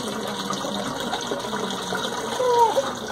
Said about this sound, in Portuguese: Tira a tampa do tanque então, senão a água vai transbordar.